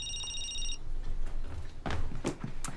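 A mobile phone rings at home with a short steady electronic tone that stops early, followed by faint domestic thumps and shuffling in a quiet room.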